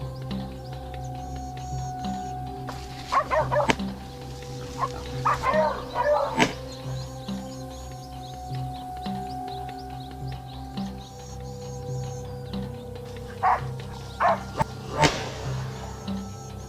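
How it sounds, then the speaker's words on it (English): Hunting dogs bark in short scattered bursts at a cornered wild boar among trees, the barks sounding at a middle distance over a steady hum, with birds calling faintly in the background. "the dogs cornered a boar between two thick stands of trees"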